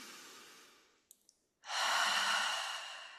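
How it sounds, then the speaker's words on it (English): A slow breath during breathwork: a quiet exhale fades out, two faint clicks follow, then a long, full, close-up inhale or release of air rises and tapers off. "Take a breath."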